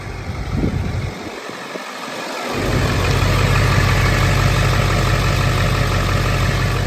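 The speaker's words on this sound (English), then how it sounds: "Engine sounds very healthy." A 2003 Ford F-550 diesel service utility crane truck engine idles steadily and loudly nearby, a constant low rumble that settles in after a brief dip and runs on without talk.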